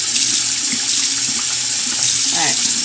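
Tap water runs steadily into a sink being filled for a kitten bath, a loud, continuous close rush with no break, and a voice briefly heard over it near the end.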